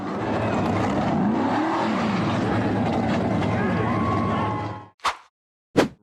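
A red and black SUV's engine labors steadily as it tries to crawl up a narrow forest dirt slope, a loud continuous drone that cuts off near the end, followed by two short sharp bursts.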